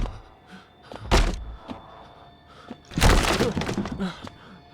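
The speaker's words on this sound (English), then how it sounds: "he did kick in the door" A door being kicked in within a horror video game: two heavy crashing impacts a couple of seconds apart, the second longer with splintering clatter, amid quiet ambience.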